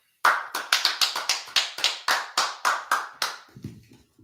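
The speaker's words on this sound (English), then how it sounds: "Let's clap it up." About a dozen distinct, evenly spaced claps from an audience at an Israelite School of Universal Practical Knowledge gathering in DC, sharp and close, ending with a brief low rustle.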